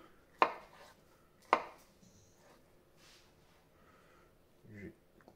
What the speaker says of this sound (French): On va couper un petit morceau